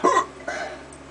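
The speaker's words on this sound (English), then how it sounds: "Hiccups won't go away" A single sharp hiccup, close and fairly loud, followed by a softer second catch of breath shortly after, during a Cornish Naga chilli pod taste test.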